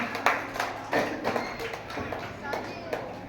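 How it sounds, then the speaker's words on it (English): Children at a school abacus competition are clapped for by an audience, with scattered, uneven claps and taps that come in a loose rhythm and then thin out, plus a little voice in the room. "Please clap for them"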